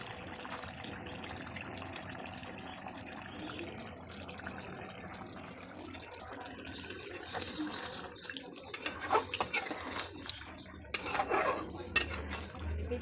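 Mutton simmers in its own spiced juices in a cooking pot while a metal spoon stirs and scrapes, with scattered clinks and knocks against the pot growing louder and busier in the second half.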